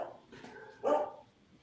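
A single muffled dog bark sounds faintly in the background of an indoor room, with low murmuring before it.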